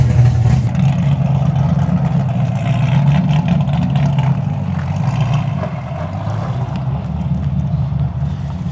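A tuned 700 HP Corvette engine idling with an aggressive, lumpy chop, a loud steady low rumble heard up close without talk.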